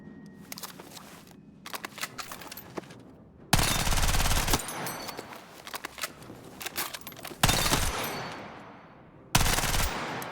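Kriss Vector submachine gun in Battlefield 6, several loud full-auto bursts of about a second each separated by quieter clicks and handling noise, no talking.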